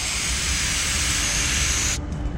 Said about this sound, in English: we're going to take the silicone spray, we'll spray it right in the groove of the rubber